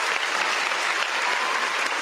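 A short burst of crowd applause, played as a sound effect on a sports radio show, gives a dense and continuous clapping texture for about two seconds with no speech.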